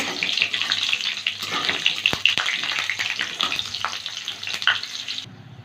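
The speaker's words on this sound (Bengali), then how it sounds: "ফোড়নটা ভাজা হয়ে গেছে" Whole cumin, fennel, a dried red chilli and green chillies frying in hot oil, giving a continuous close hiss and crackle with occasional sharp utensil knocks before stopping abruptly.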